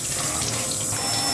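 Cold tap water runs steadily into a sink to soak perilla leaves, a continuous close splashing hiss with no speech.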